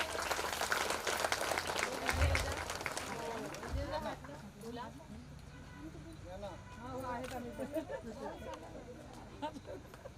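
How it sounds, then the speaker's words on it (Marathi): An audience claps at the inauguration of a Shramjeevi women's campaign event, with a burst of applause at first that fades into crowd chatter and a voice speaking over it. "सर्वांनी जोरदार टाळ्या वाजवायच्या आहेत"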